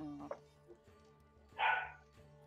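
A puppy gives a couple of short yips and barks, one brief and then a louder, higher bark near the middle, fairly close over a low droning background.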